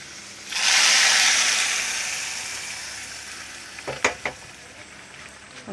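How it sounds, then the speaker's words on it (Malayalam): Crisp fried onions poured into a simmering fish curry, a sudden loud hiss that swells and slowly fades, followed by a few sharp clinks of a utensil against the pot. "കറി ഉള്ളി മൊരിഞ്ഞു കറിയിലേക്ക് ഒഴിക്കട്ടെ."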